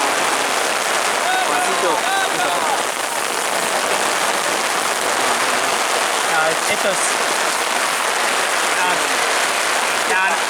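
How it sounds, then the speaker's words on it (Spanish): Heavy rain pours down during an amateur league football match, a dense, loud, unbroken hiss of drops. A person talks over it. "No puede llover así, no puede llover así"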